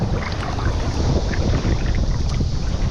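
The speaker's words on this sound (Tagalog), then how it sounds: "malakas yung hangin" Strong wind buffets the microphone in a constant loud roar, with faint water-like sloshing beneath it and no voices.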